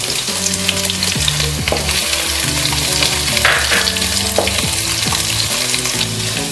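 Chopped onions frying in hot oil with mustard seeds and dried red chillies, a loud continuous sizzle with occasional stirring scrapes, close up and without talk.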